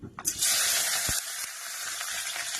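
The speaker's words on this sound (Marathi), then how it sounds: "आता मी टाकते ह्याच्यात मस्त कांदा हिरवी मिरची आणि" Onion and green chilli hit hot oil in a pan with a sudden loud burst of sizzling that holds steady and bright for the rest of the moment, close up, with a faint clink early on and no voices.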